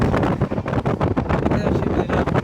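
The Amrit Bharat Superfast Express from Nagercoil to New Jalpaiguri rushes along at speed, heard as a loud, buffeting roar of wind and rumble that pulses unevenly throughout.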